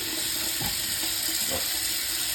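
Cold tap water runs steadily over mushrooms being rinsed in a home kitchen, a constant close rushing hiss with a few soft knocks and shifts underneath.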